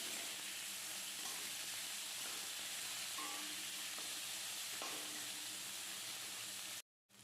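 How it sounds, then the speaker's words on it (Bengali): Bitter gourd fries in hot oil with nigella seeds and dried chili, giving a loud, steady sizzle that runs unbroken and close up, then cuts out briefly near the end. "একটু নেড়েচেড়ে নিয়েই এবার আমি করলাটা দিয়ে দিলাম। দিয়ে এখন খুব ভালো করে এটাকে ভাজা ভাজা করতে হবে।"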